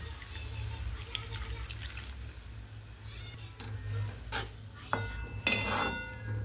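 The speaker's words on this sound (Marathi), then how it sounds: "1 वाटी पाणी घालते" Water poured into dal with onion greens in a pot, a cup's worth splashing in, then utensil scraping and stirring, with clinks near the end, steady and close with no talk.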